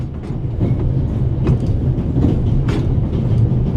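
Train rolling along its tracks in The Raven Remastered video game, a steady rumbling drone with rhythmic clickety-clack wheel beats, close and continuous, with no speech.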